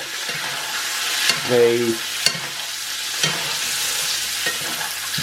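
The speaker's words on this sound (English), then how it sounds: "I'm going to pop it back in the pan to reheat it" Sauce and meat juices from steak sizzling in a pan, a steady close hiss with a few sharp stirring clicks and scrapes.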